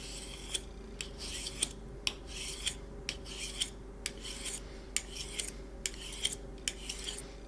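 Steady back-and-forth honing of a knife blade from heel to tip, with crisp, evenly spaced metallic strokes over a soft, continuous rasping bed, close and moderately quiet, with no voices.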